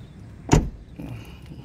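A single solid thud as the door of a 2005 Toyota Harrier 2.4 L swings shut, close and sharp, followed by a faint rattle and hum as the sound settles.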